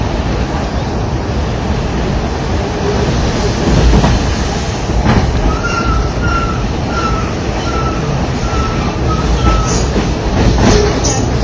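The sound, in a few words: passing train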